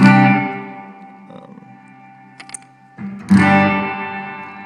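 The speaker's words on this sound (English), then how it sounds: "Right now I'm on a hall reverb." Electric guitar played through an Electro Harmonix Cathedral reverb pedal on its hall setting, with a chord ringing out and decaying in a long wash, a few quiet plucks, then another strummed chord swelling with reverb.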